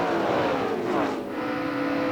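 NASCAR stock car roaring past at speed at the 2004 Auto Club 500, a loud continuous engine drone with a falling Doppler pitch as it sweeps by close, no talk.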